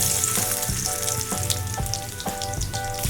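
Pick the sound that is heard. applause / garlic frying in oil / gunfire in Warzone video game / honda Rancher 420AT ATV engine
garlic frying in oil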